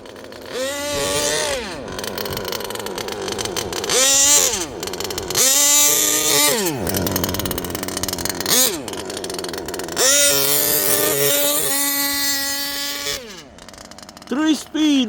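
HPI Savage Octane RC truck with a three-speed transmission, its small engine revving up and down in repeated rising and falling whines as it shifts, loud and close, with people talking and cheering over it.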